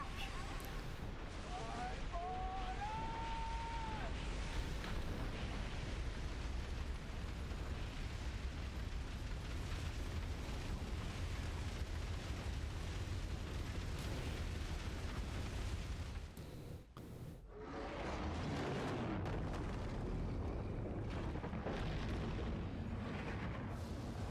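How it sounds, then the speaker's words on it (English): A huge, sustained explosion rumbles through a Guild Wars 2 battle, a dense roaring blast that fills the scene for many seconds, briefly cuts out, then surges again with voices talking over it. "And big explosion."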